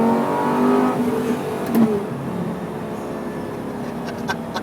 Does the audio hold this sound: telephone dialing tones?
no